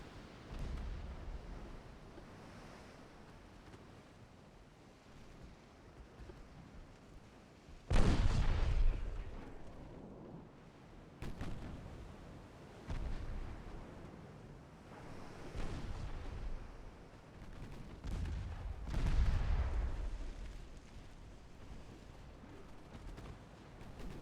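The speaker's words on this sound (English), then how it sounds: "guns might just keep firing away at the transports" Warship guns fire in a naval battle against transports in Ultimate Admiral Dreadnoughts: several heavy booming salvos spaced seconds apart, each with a rolling tail, over a low sea-like ambience.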